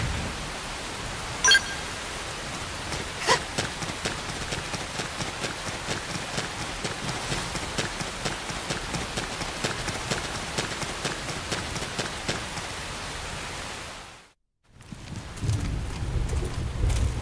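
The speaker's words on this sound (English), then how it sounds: "The rain's starting to let up, just in time for sunrise." Steady rain in Xenoblade Chronicles X, a dense even hiss of falling drops with faint low rumbles, cutting out briefly to silence near the end before resuming.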